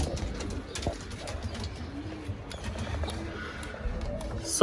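Pigeons of a hard-to-breed fancy breed coo in a loft, soft low calls repeating over a busy background of rustling and handling noise.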